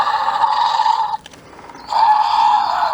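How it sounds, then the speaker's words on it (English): A Jurassic World Dominion Slashin Attack Therizinosaurus toy roaring through its small electronic speaker, two loud, close, rasping roar bursts separated by a short pause. "with this, the mouth opens when it roars"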